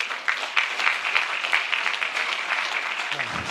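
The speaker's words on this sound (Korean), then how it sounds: "우선 원혜영 위원님 큰 박수로 맞이해 주시기 바랍니다." An audience at a political party debate forum clapping to welcome a committee chair to the stage, brisk dense applause close by that thins out near the end.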